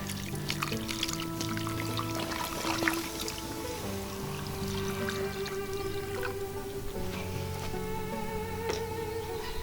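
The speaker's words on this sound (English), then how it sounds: "And then we're going to add our braising liquid." Braising liquid poured into a black iron pot over lamb shanks topped with a bouquet of herbs, a steady close liquid pour and splash with faint drips running throughout.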